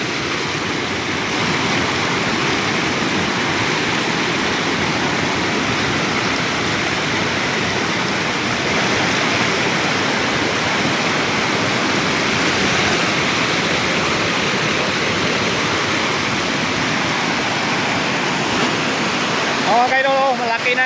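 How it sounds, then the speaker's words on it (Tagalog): A flooded river swollen by farmland floodwater rushes past in a loud, unbroken roar of churning water, steady throughout, with a brief voice at the very end. "Oh mga idol, oh, malaki na yung baha."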